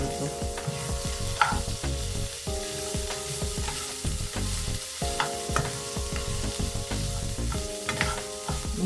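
A large batch of onions fries in oil in a pan, producing a steady close sizzle broken by repeated scraping and clattering stirs, with no talking.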